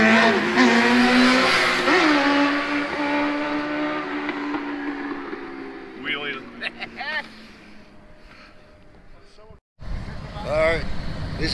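Motorcycles accelerate away on the US 129 Tail of the Dragon road in Tennessee, engines roaring loud and close then fading into the distance, with people talking and another bike revving near the end.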